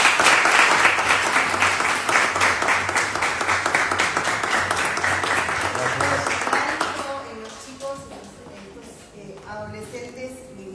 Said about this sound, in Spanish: Bueno, un aplauso, por favor.